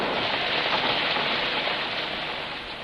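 Heavy rain falling high on a plateau makes a dense, continuous hiss, loud and even throughout, with no voices.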